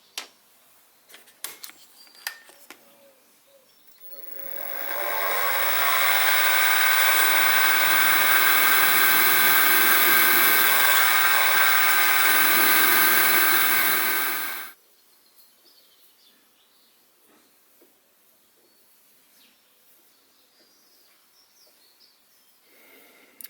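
A drill boring a 3 mm pilot hole in metal, the first step toward a 3/16 by 40 ME tapped thread on a Stuart 10V steam engine valve rod: about ten seconds of loud, steady whine that spins up and stops abruptly, with quiet handling clicks before and after.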